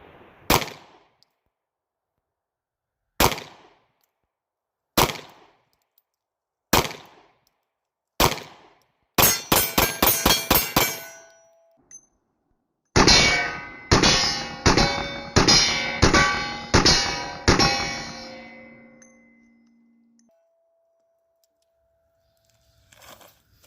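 Sig Sauer P365 9mm pistol firing at steel targets: five spaced single shots, then a rapid string of shots, then a longer burst of ringing steel clangs that decays into quiet, with no voices.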